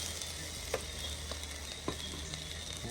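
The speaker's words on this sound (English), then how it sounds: "Load on the grill now. Yeah, guys, you hear that? Sizzle already." Chicken pieces sizzle steadily on a hot grill in a close, continuous hiss, broken by a couple of sharp pops and crackles.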